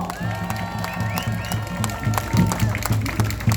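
Crowd applause at an outdoor rally in front of the Seoul City Council protesting election fraud, steady clapping from many people mixed with voices and sustained tones, fairly loud throughout.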